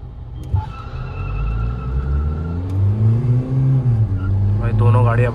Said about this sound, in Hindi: भाई दोनों गाड़ियां भाई बहुत बढ़िया भाग रही है भाई, और फीगो आ गई, फीगो आगे निकलते जा रही है